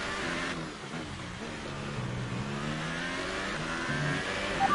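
A V12 Formula 1 car engine in a racing video game revs with a sustained, loud high-pitched drone, its pitch sweeping up and down through gear changes.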